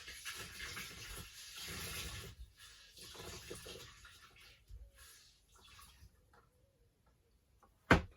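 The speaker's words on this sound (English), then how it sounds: "I'm gonna wring it out right here." Water from a wet cleaning rag wrung out by hand splashes and trickles into a bucket during RV fresh water tank cleaning, starting strong and dwindling to drips before a sharp final clunk.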